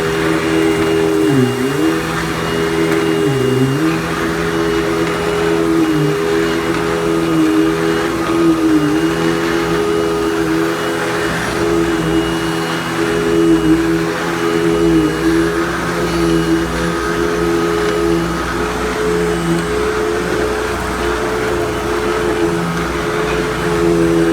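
A Eureka 4870 vacuum cleaner runs over a van floor mat with a steady, droning motor whine. The pitch dips briefly a couple of times early on as the nozzle catches, and the sound stays continuous and close with no talking.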